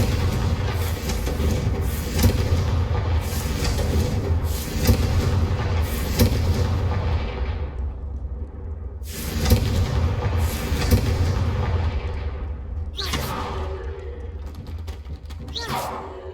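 Confringo fire spell in the Hogwarts Legacy video game, a run of heavy booming blasts and thuds that repeat through a dense, loud game soundscape, with sharp bursts standing out around the middle and near the end.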